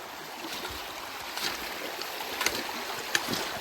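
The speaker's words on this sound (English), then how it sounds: "There's quite a bit of water coming down the path still" Floodwater runs down a footpath turned into a stream, a steady rushing wash with a few small splashes, moderately close and with no voices.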